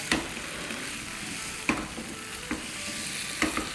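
Potatoes and masala sizzle steadily as they are stir-fried in a pan for a spicy bhuna aloo dish, with a few sharp spoon scrapes and stirs cutting through the continuous frying hiss.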